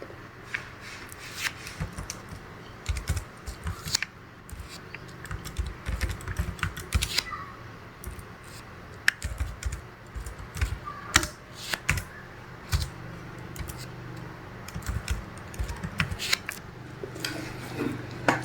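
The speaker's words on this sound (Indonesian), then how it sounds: "lalu ketik" Fingers type on a computer keyboard while filling a spreadsheet, a steady run of close, soft clicks with uneven bursts and short pauses and no voice over them.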